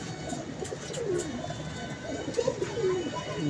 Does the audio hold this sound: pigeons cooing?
yes